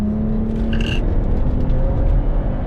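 A BMW 1M's engine pulls hard on a race track, a loud continuous drone that holds steady and close throughout, with no talk over it.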